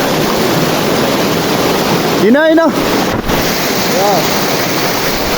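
A small mountain stream in Nepal, low in the dry season, rushes as a steady broadband wash close by, with a brief voice and a short whistle-like tone rising over the water partway through.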